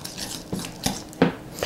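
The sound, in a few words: mixing compound butter with salt and smoked paprika in bowl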